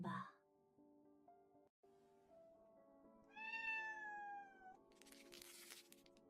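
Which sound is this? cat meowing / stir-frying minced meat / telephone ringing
cat meowing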